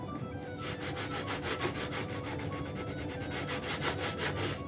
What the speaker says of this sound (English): The hand sanding's no bargain.